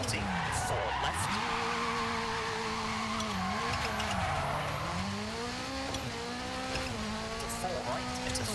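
A Hyundai hybrid rally car slides on gravel through a hairpin, engine revving and falling with tires scrabbling, loud and close, with a co-driver calling pace notes over it.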